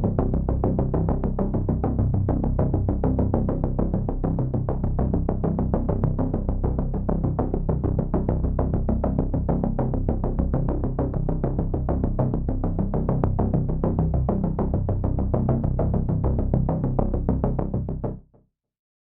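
A one-oscillator arpeggiated synth with eleven voices, programmed on Zebra for a Battlefield game score, ticking out a rapid, dense, unbroken pulse of notes for nearly twenty seconds before cutting off abruptly, loud and alone.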